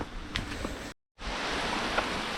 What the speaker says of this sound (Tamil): மழை வேற வந்துருச்சு.